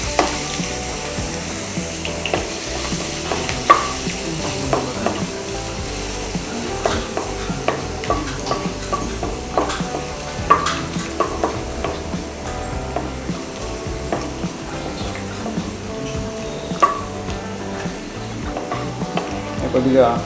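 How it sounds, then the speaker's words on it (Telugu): Chopped garlic fries in oil for dragon chicken, a continuous close sizzle with frequent spatula scrapes and taps against the pan; faint talk may sit under the cooking noise. "కొద్దిగా లైట్ బ్రౌన్ అయిన వరకు కొద్దిగా ఫ్రై చేసుకోవాలి."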